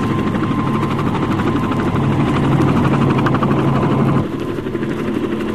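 Loud, steady helicopter rotor thump and engine drone overhead in an audio drama sound effect, continuous throughout, dipping slightly in volume near the end.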